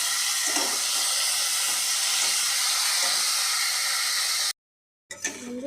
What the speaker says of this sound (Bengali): এবার ভালো মতন এটা একটু ভেজে নেবো বন্ধুরা